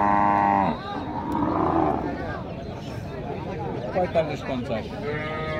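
A cow lets out a loud, drawn-out moo up close at a cattle market, followed by a busy crowd murmur and scattered voices in the background.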